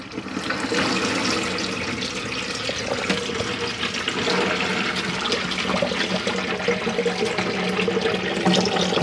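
Water runs steadily from the tap into a hand basin in a Bailey Approach Autograph 740 caravan washroom, a continuous close splashing rush that holds at an even loudness for the whole stretch with no voices over it.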